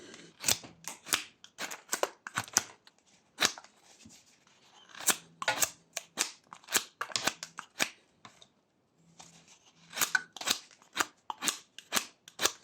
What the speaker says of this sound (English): we can carve away these corners using rough cuts and push cuts